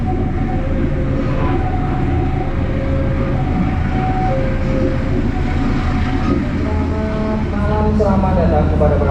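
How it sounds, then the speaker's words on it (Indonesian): The Sri Tanjung passenger train rumbles into a station with a continuous low drone and squealing tonal brake whines, loud and close, while people talk nearby. "Sekarang ini kereta api Sri Tanjung sudah tiba di stasiun"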